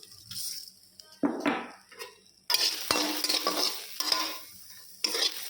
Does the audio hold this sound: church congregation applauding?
no